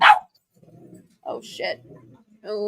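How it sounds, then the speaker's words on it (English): Dogs bark a few times in short bursts indoors, mixed with a startled voice speaking over and between the barks. "All the dogs are in here right now. Sorry if you hear them barking."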